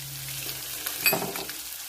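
Pasta-sauce seasoning browning in a pan, a close, even sizzle with a brief stir or clink near the middle, no voices.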